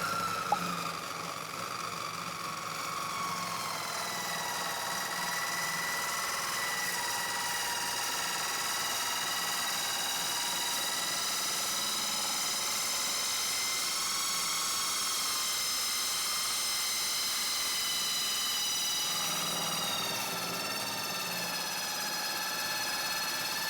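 A saw cuts through 60x40 steel metalon tube with a 1.2 mm wall, a loud, steady high whine with ringing metallic overtones that runs unbroken for more than twenty seconds with no voices.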